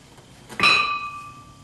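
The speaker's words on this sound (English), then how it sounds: "I'll just take and tap the pliers with a hammer." A hammer strikes pliers gripping a cotter pin during trailing arm disassembly on a 1976 Corvette, giving one sharp metallic ping that rings on and fades over about a second, close and clear with no talk.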